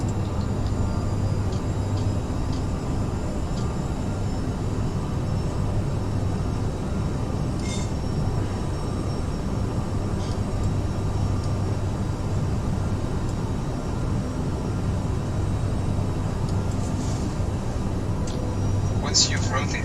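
Twin jet engines of a CRJ regional airliner spool up for takeoff in Microsoft Flight Simulator, giving a steady, loud, unbroken roar with a constant low hum that lasts throughout.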